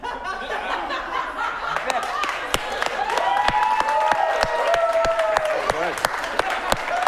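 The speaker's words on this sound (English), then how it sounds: "I award an applause break for that" Audience applause at an improv comedy show, a scattered clapping crowd mixed with laughter and chuckles while a performer keeps talking over it.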